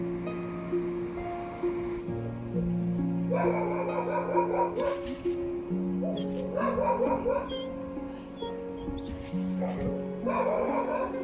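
A small dog yips and whimpers in short, high, repeated bursts with breaks between them, while someone talks to it warmly in the foreground throughout.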